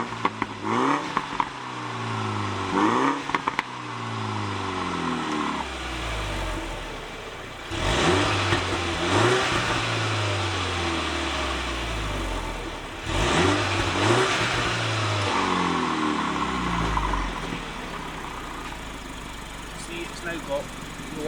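A flood-damaged Mini John Cooper Works engine revs repeatedly in bursts through a John Cooper Pro exhaust, valves opening and shutting, the exhaust rising and falling with each blip, loud and close, with a person talking underneath.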